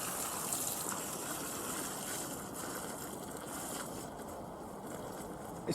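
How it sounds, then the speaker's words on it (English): Water gushes steadily into a watering can already holding a pint of beer, a continuous broad rushing pour that stays loud and even from start to finish with no talk over it. "Let's top that up with water now."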